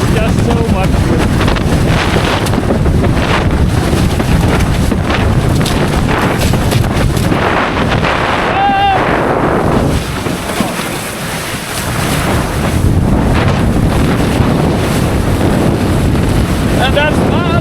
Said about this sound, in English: Now there's just so much wind.